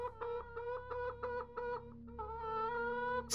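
A rooster in the horror video game Hand Simulator Horror gives a quick run of rhythmic clucks, pauses briefly, then lets out a longer, louder drawn-out call, close and clear over a low background hum.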